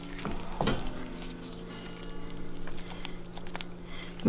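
Cherries are stirred into a white chocolate mixture, with soft wet squelching and scraping strokes near the mic, a few sharper knocks early on and a steady low background hum, no voices.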